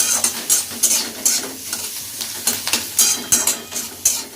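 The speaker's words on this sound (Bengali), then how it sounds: "ডিমের ঝুরি ভাজার মতন ঝুরঝুরে করে ভাজতে হবে।" Egg frying in a pan and being broken into crumbles for egg noodles, with a continuous sizzle and quick, rhythmic spatula scrapes and taps against the pan, close up.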